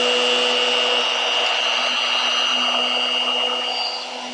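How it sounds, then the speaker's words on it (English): A router cuts a mortise into a wooden chair leg, giving a loud, steady high-pitched whine close by that eases slightly at the end, with no talk. "So I'm forcing the router down, and I'm using the left hand to guide the router against the piece"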